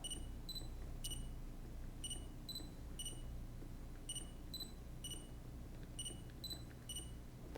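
A Nikon D5000 camera emits short, quiet electronic beeps in small groups of one to three, spaced irregularly over a low background hum, alternating between higher and lower pitched tones.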